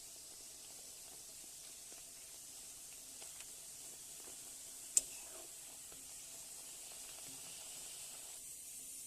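Rolled luchi dough frying in hot oil gives a soft, steady hiss that holds for the whole stretch, broken once by a single sharp click near the middle; quiet and with no talking.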